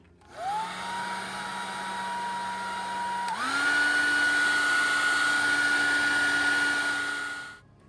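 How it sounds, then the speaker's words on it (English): A hair dryer whirs on with a steady blowing hiss and whine, drying a watercolor painting from straight above, then steps up to a higher setting and keeps running close by before switching off. "If you use a hair dryer, be careful that the air from the hair dryer doesn't push your black up"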